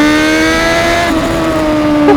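A car engine on a road in Croatia, held at a steady high whine as it drops into first gear, loud and close with a slight shift in pitch midway.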